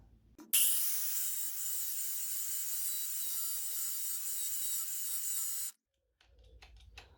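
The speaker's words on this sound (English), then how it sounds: "I'm going to quickly use the 4-inch battery grinder" A 4-inch battery-powered angle grinder cuts through a lock, a loud sustained high whine holding steady for about five seconds before stopping abruptly, followed by faint handling noise.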